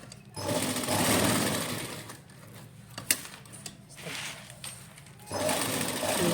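A sewing machine stitches wide pearl lace onto the edge of a chunni (dupatta), running in steady bursts with short pauses between, while a person talks over it.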